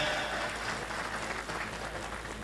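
Applause from an audience at an evening gathering, a steady dense wash of clapping that stays loud and even throughout.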